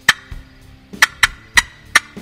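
A series of short, sharp turkey clucks from a box call, five or six crisp pops at an uneven rhythm, close and clear.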